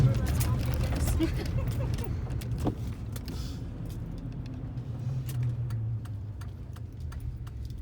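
A truck driving on a farm country road, its low steady engine and road rumble running throughout, with a spoken voice over it and small rattles and ticks.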